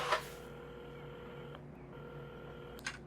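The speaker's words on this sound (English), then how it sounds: "Carmen had started dialing the phone" A telephone is dialed in the game Assemble With Care, giving a steady electronic tone with brief clicks at the start and end, no voices.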